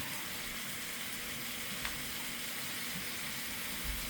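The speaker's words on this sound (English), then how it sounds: "giving it one quick little stir fry" Country style barbecue ribs seasoned with sazon sizzle steadily in a pan, a close, even frying hiss with faint stirring bumps and no talking.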